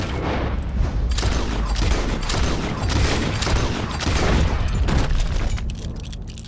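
Dense, loud gunfire from the Western video game Red Dead Redemption 2, a continuous barrage of rapid overlapping shots and booms for about five seconds before it thins out.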